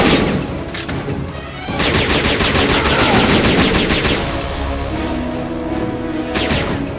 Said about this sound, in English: there's someone else shooting at me